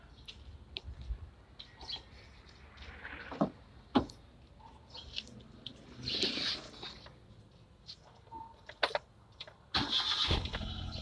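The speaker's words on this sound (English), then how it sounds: "let's go ahead and fire up the engine." A Hyundai Eon car engine being started and left to idle, heard faintly amid clicks and knocks, with short bursts of cranking and catching before a quiet, steady running noise.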